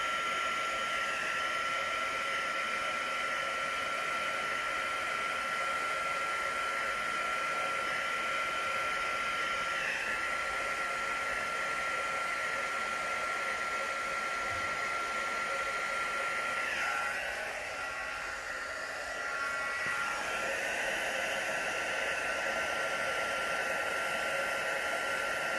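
Steady broadband blowing air, like a hair dryer or heat gun, runs close and continuous over freshly poured epoxy resin in a custom coaster and tray silicone mold, with a brief dip near the end.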